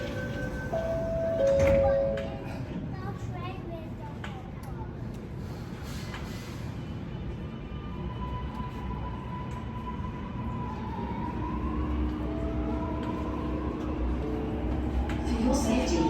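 A Sydney Metro train rolls into the platform at Waterloo station, a low steady rumble that builds gradually, with a brief louder burst early on and tonal whines from the motors, under station announcements.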